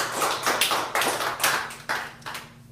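Audience at a poetry open mic clapping, a series of sharp, fairly loud hand claps in a steady, rhythmic pattern, with no talking over them.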